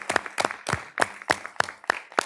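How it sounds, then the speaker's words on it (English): A few people clap in a rhythmic, fairly sparse pattern at a school board of education meeting, recognizing the tech team, with about eight distinct sharp claps spread evenly over a couple of seconds and no talk. "we got to clap it up for them"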